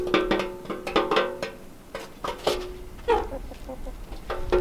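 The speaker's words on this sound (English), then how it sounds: "They look like albino chickens." Several white chickens cluck nearby along the trail at Tiger Leaping Gorge, giving short, uneven bursts of clucking with brief pauses between calls.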